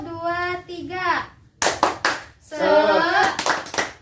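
Children in an elementary classroom chant and clap a rhythmic group cheer, with short bursts of sharp clapping between loud chanted voices, close and lively.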